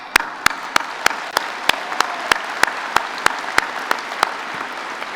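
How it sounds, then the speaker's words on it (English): Convocation audience at the University of Calgary's spring ceremony gives a round of applause, steady dense clapping with a few sharp louder claps standing out over the wash of hands. "One more round of applause"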